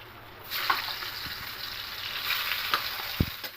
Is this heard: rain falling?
no